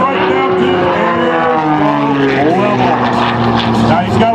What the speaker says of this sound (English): He pulls that stick back to his belly button and brings the airplane right down to